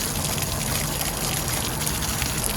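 Water draining steadily from an RV camper water heater during winterizing, a continuous close gushing rush with no pauses and no talk.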